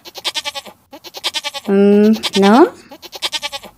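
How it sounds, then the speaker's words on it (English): A lamb bleats twice in long wavering cries between bursts of rhythmic music, with a short spoken word close by. "It is baby sheep."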